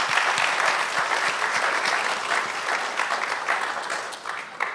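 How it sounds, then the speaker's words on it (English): A convocation audience applauds steadily, a dense wash of many hands clapping at once that holds evenly throughout and fades slightly near the end, full and room-filling with no talking on top. "Everyone, please give yourselves a round of applause."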